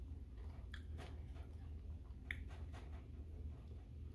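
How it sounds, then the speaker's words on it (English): Potato chips are crunched and chewed close up, with soft, irregular bites and crackles over a dense, steady background noise. "I love the crunch right there. That's a chip right there."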